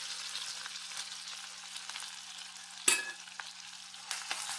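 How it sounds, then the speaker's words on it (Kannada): Crushed ginger, garlic and green chilli frying in hot oil with fenugreek seeds, giving a steady close sizzle throughout, broken by a sharp clatter of a utensil near the middle and a couple of lighter knocks. "ಎಲ್ಲವನ್ನು ಹಾಕಿ ಫ್ರೈ ಮಾಡಬೇಕು."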